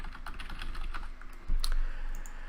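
Someone types on a computer keyboard at close range, a quick run of light key taps spread over a couple of seconds, entering a name, with a faint steady room hum beneath and no talking.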